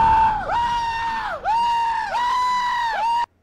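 Several voices scream in a drawn-out scream-off between puppet characters, shrill sustained wails that swoop down and rise again in three or four waves for about three seconds before cutting off abruptly. The screaming is loud, close and continuous.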